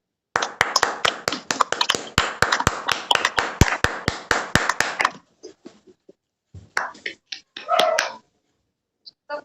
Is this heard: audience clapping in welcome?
yes